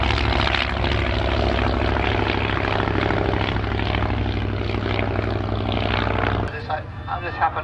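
Avro Tutor propeller biplanes, registered G-AHSA among them, pass together at an evening air display, a loud, steady, deep engine drone that drops away abruptly near the end, with a commentator's voice running over it.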